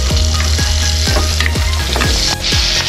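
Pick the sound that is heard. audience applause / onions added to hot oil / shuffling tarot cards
onions added to hot oil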